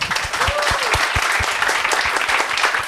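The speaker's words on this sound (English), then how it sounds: "So round of applause." An audience claps steadily and loudly in a room at the end of a literary reading and talk, a dense, even wash of many hands with a few distinct nearby claps.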